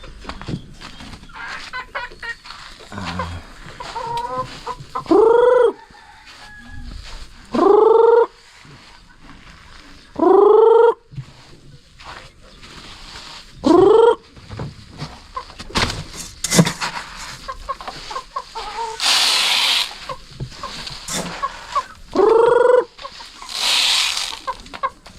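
Chickens cluck and squawk in several loud, rising calls spaced a few seconds apart, over a busy outdoor background on a banana farm with faint rustling and scattered noise.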